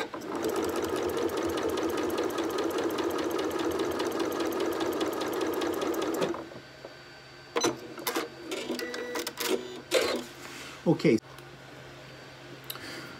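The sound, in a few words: sewing machine stitching fabric squares along edge guide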